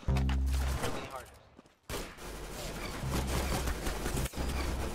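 Single shots from a semi-automatic gun in the Roblox shooter Arsenal crack out loud and close, with brief sharp bursts amid busy game noise and a short gap of quiet partway through.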